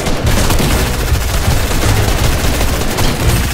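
Rapid, loud gunfire from the Fortnite video game rattles on without a break, dense bursts of shots and booming impacts overlapping for the whole stretch with no pause.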